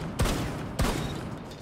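Two sharp, loud shotgun blasts from Rainbow Six Siege ring out about half a second apart, each with a short decaying tail and no talking over them.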